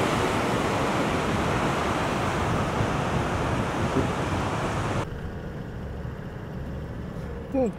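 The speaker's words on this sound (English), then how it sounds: "got some splashing going on over those ones at the end there" A broad roar of waves splashing against sea cliffs and wind dominates, then drops to a softer, more distant wash of surf with a faint voice briefly audible.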